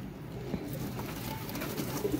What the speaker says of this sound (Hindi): ये आया कबूतर माशाल्लाह